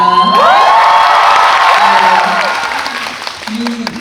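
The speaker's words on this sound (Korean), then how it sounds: "이 함성 오랜만에 듣는 것 같아요" A festival audience at a Busan International Film Festival screening Q&A cheers and shouts with high-pitched screams and applause, loud at first and then fading as a voice speaks over the tail.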